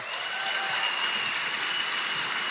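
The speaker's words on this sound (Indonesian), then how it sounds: "Tepuk tangan untuk beliau." A small audience claps steadily for a woman's husband at a network marketing talk, an even, moderately distant patter of applause with no voices over it.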